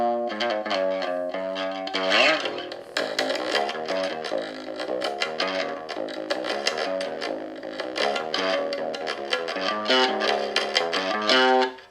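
A bass guitar plays through a tiny Santai MA 5 mini amplifier, its tone heavily distorted and fuzzy, with sustained notes and steady picking running continuously for about twelve seconds with no talking.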